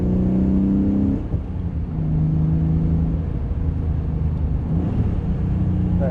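A Porsche 964 Carrera 4 with a recently overhauled twin-plug flat-six runs with a deep, steady rumble. A brief rev rises near the end, heard up close with no talking.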